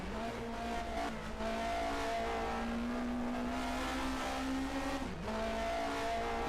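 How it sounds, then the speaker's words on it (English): Turbocharged 1979 DRM Division 2 race cars at the Diepholz airfield circuit, engines droning loudly and steadily with a rising pitch as they accelerate, a brief dip and shift, then the roar continues. "These are both turbocharged cars"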